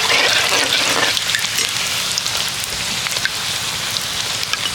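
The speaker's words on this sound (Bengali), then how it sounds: "একসাথে কিন্তু অনেকগুলো ফুচকাই ভেজে নেওয়া যাবে।" Many puchka shells fry together in hot oil, a dense steady sizzle with crackling bubbles, loudest at the start, with occasional stirring through the oil.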